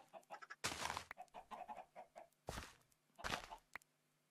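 Chickens in a modded Minecraft Bedrock Edition game cluck in short, scattered bursts, close and quiet, with a few sharper squawks standing out among the softer chatter.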